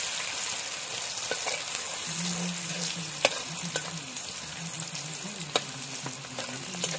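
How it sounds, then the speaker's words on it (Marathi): Garlic and onion sautéing in hot oil in a pan for a Malvani-style tender jackfruit curry, a low continuous sizzle broken by a few light taps and scrapes of a spatula, close and without voices. "आणि आता पहिलं तर लसूण, कांदा, कांदा परतून घेऊया"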